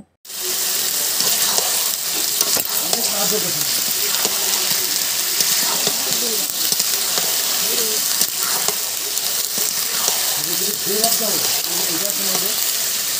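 Loud, continuous sizzle of fish frying in a pan, with occasional scraping and soft clinks, steady throughout.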